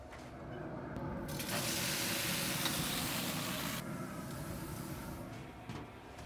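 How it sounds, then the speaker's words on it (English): Steak sizzles on a sliding grill as carne asada cooks, a steady loud hiss and crackle that fills the whole stretch, briefly brightening in the middle. "Let's throw the steak on."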